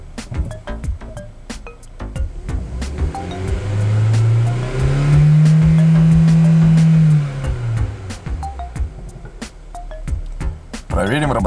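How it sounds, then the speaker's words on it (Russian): A Kia Ceed engine from a 2012–2018 model, with 118,816 km on it, rises into a loud sustained rev during an inspection, holds for a few seconds, then drops back to idle, with clicks and speech around it. "Еще раз проверим работу двигателя."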